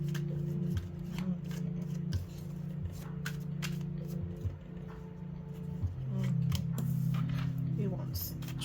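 Tarot cards shuffled by hand in repeated quick riffles and slides, crisp papery bursts close up, with a low steady hum and a voice speaking quietly underneath.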